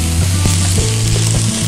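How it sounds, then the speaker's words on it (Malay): Rice for nasi goreng pattaya stir-fried in a pan, a loud, close, steady sizzle and hiss with a spatula tossing and scraping through it, no voices. "Dan kita gaul sehingga nasi ni naik bau."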